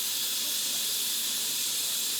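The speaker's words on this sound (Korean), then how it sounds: "커피 머신이란 애칭을 가진 모커니처는 유럽에 남은 마지막 증기 삼림 열차다." The Mocănița steam locomotive on a Romanian forest railway, a wood-fired engine, letting out a loud, steady hiss of escaping steam that holds without a break, close and unmasked by talk.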